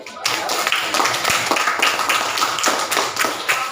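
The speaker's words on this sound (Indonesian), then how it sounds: "tepuk tangan dulu teman-teman" Rapid, continuous clapping from a group of people, close and loud, with no pauses.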